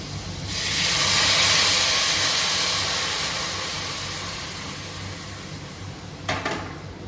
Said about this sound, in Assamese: এয়া ভজা হৈ গ'ল আৰু এতিয়া মই ইয়াতে গৰম পানী দিম